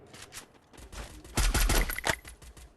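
Rapid gunfire in the Free Fire video game while trying for headshots, a dense burst of shots peaking midway, loud and close, no talking.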